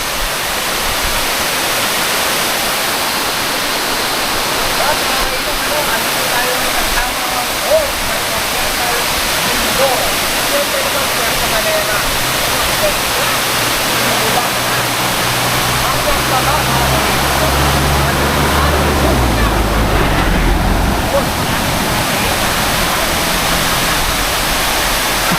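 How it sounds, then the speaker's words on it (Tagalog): Tamaraw Falls in Puerto Galera, Oriental Mindoro, pours as a steady, loud broadband roar of falling water, continuous and close throughout, with a low rumble swelling toward the end. "Isa sa mga pinagmamalaki dito sa Puerto Galera, Oriental Mindoro, ang Tamaraw Falls."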